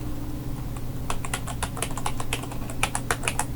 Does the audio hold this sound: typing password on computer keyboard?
yes